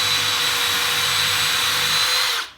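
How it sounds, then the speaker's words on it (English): A power drill whines steadily at close range for a couple of seconds, drilling a hole in a mulberry log, then spins down and stops. "I'm going to drill a hole right here"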